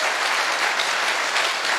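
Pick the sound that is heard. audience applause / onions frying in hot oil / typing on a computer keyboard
audience applause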